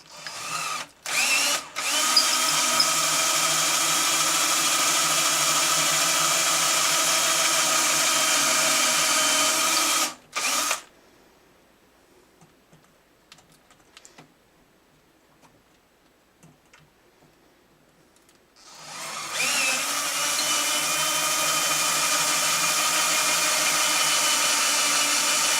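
A power drill whines steadily for about ten seconds while drilling holes in a guitar headstock for Grover tuning machines, cuts out into near silence, then runs again for the last several seconds, loud and close.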